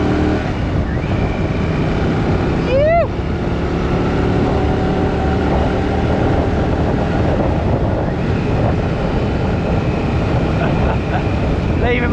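A 2026 Royal Enfield Shotgun 650 motorcycle pulls away under steady engine drone buried in heavy wind rush, with a brief rising whine early on.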